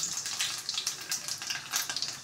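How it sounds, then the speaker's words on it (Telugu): Mustard seeds, cumin, garlic and dried red chillies fry in hot oil in a pan on a stove for a tempering, giving a steady close crackling sizzle with repeated bursts of spattering and no voices. "స్టవ్ మీద బాండీ పెట్టేసుకొని ఇట్లాగా తాలింపు వేసుకోవాలండి"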